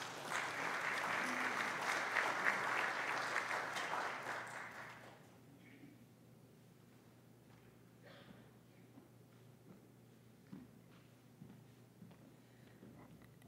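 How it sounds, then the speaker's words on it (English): An audience at a church gathering bursts into applause, loud and dense for about five seconds, then fades into quiet room noise with scattered small sounds. "Can we give her a round of applause for being here?"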